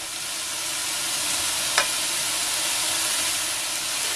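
Chopped onions, spring onions and garlic sizzle steadily in a hot pan as they are stirred, a loud, even hiss throughout with one brief clink of the utensil midway, and no talking.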